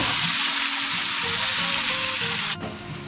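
Vegetables sizzling loudly in a frying pan right after a cooked egg is lifted out, a dense steady hiss close up that drops suddenly near the end.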